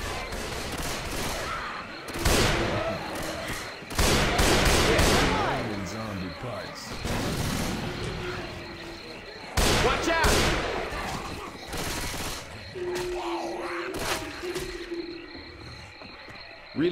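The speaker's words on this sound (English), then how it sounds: "I'm gonna deploy my frag rounds." Frag rounds fired in Left 4 Dead 2 burst out as a series of heavy, loud blasts spaced a couple of seconds apart, over ongoing zombie-game chaos and scattered noise.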